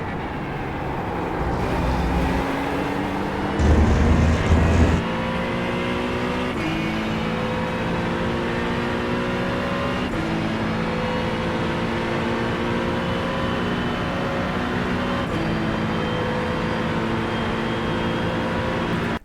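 An Acura GT3 race car at full throttle on Road America in iRacing, with a loud engine roar climbing steadily in pitch through several upshifts and brief louder bursts near the start.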